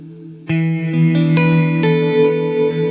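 Guitar chords played through a delay pedal stacked with a reverb effect enter sharply and ring out, with new notes layering over repeating echoes into a dense, sustained shimmer.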